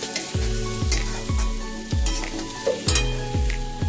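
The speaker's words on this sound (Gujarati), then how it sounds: "હવે બધું મિક્સ કરીને થોડીવાર શેકાવા દઈશું" Turmeric, garlic, onion, tomato and boiled peas sauté in a pan for a turmeric vegetable curry. A spoon scrapes through the sizzling mix in a steady, repeated rhythm about twice a second, close and fairly loud, with no voices.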